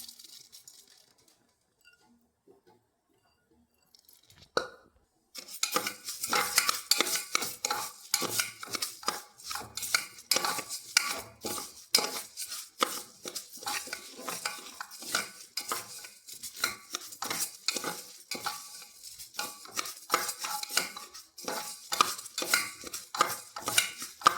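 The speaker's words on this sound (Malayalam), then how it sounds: "ചെറുപയർ എടുത്തിട്ടുണ്ട് ചവ്വരി എടുത്തിട്ടുണ്ട് ഒരു മുക്കാൽ കപ്പ് വീതം എടുത്തിട്ടുണ്ട് രണ്ടും ഇതൊന്ന് കുക്കറിലിട്ടൊന്ന് വറുത്തെടുക്കാം" Green gram and sago being dry-roasted in a pressure cooker, a spoon scraping and stirring the grains against the metal base in a steady, busy rattle after a few seconds of near silence, with no talking.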